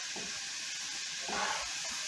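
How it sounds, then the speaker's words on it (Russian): Quiet, steady hiss of hot oil sizzling in a pan as chak-chak dough fries, with a faint stirring sound partway through. "У меня уже масло там шумит. Масло у меня горячее."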